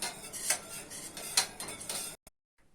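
A spoon scraping and clinking against a pot while pudding is stirred at home, several metallic scrapes and knocks at an uneven pace, close and moderately loud, ending in a sudden cut to near silence.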